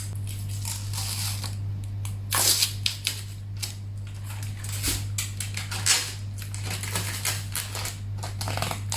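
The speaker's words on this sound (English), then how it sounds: "now let's remove the plastic at the back" Plastic film peels off the back of a Logitech G913 wireless mechanical keyboard in crinkly, crackling bursts and sharp rustles, close and fairly soft over a steady low hum.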